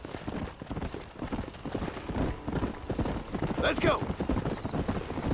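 Horse hooves clip-clop at a steady gait in the Western video game Red Dead Redemption, running through the whole stretch under game dialogue and a short spoken line, with a faint whinny near the end.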